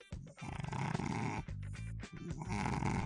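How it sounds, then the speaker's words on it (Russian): Loud, close snoring, with deep rumbling, growl-like breaths repeating in long rough waves and a brief pause in between. "Он все еще храпит, да."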